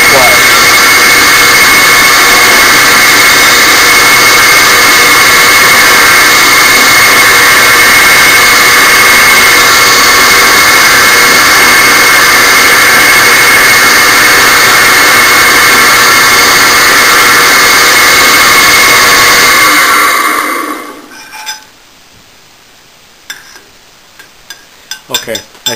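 A machine turning a reamer clockwise with cutting fluid produces a loud, steady, high mechanical whine and hum that runs continuously, then cuts off abruptly and leaves a few scattered clicks.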